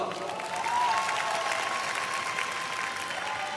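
An audience greets a speaker at a Build Up Korea session with a sustained round of applause, many hands clapping evenly at moderate volume, with faint tonal music underneath.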